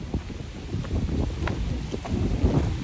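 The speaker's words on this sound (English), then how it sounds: "woo, it's windy." Steady wind on a mountain buffets the microphone, a broad rumbling roar with gusty swells throughout, close and fairly loud, no talking.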